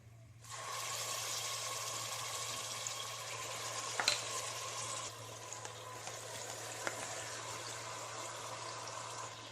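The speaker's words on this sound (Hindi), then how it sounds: "खीमा डालने के बाद हाई फ्लेम पे इसे बहुत अच्छे से भूनना होगा हमें" Marinated minced meat (kheema) frying on a high flame, a steady, loud sizzling hiss that starts abruptly and carries on evenly with a few small pops and clinks.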